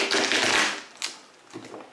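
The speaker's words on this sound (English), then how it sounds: "Now, if we do a fan shuffle, which is a fun shuffle to do, and it sounds awesome." A deck of cards riffled in a fan shuffle during a Lord of the Rings card game session: a quick burst of fluttering card flicks, then two short snaps, close and quiet.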